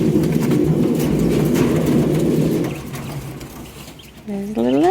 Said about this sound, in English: Let's have a look at the quail.